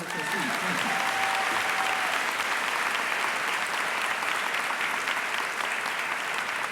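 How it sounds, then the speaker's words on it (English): An audience at a 2022 Fine Arts Center graduation ceremony claps for the Board of Trustees, a steady sustained wash of applause with a voice briefly audible at the start. "how about a round of applause for our Board of Trustees?"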